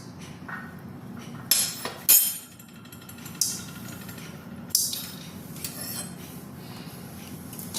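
Whole spices such as black peppercorns and cloves dry-roast in a pan, scraping and rattling with several sharp metallic clinks of a utensil against the pan over a low sizzling hiss, fairly quiet.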